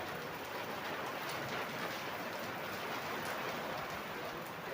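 Heavy rain pours steadily, a dense, even hiss of drops on surfaces with no voices.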